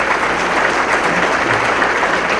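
Audience applause fills a summit session hall as a state senate leader is introduced, a dense, steady clapping that stays loud and even throughout with no speech over it.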